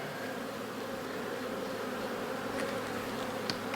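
Honey bees working a hive during a nectar flow make a constant dense hum, close and even, with a couple of faint clicks late on and no voices.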